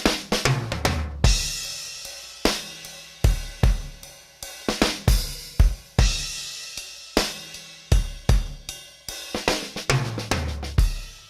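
An unprocessed EastWest FabFour sampled drum kit plays varied patterns in different styles, sharp hits and crashing cymbals with decaying washes, loud and close throughout.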